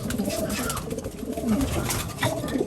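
Racing pigeons coo steadily in low, throaty rolls, several birds overlapping close by with a few soft chirps and no talk.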